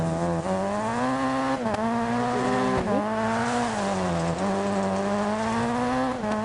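A Ford R5 rally car's engine revs hard and steadily up close, pitch rising and dipping through repeated throttle blips, with tires squealing in brief bursts over the continuous loud drone.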